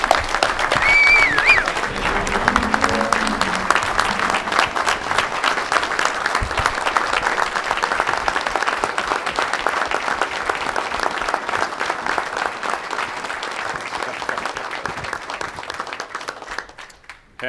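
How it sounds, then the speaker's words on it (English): A crowd applauds at a December 2022 Mayor's Night Out award ceremony in Hammond, Indiana, honoring a man from the police department. The clapping is loud and dense and stays steady for about seventeen seconds before stopping abruptly. "Can you give him a big round of applause, everybody?"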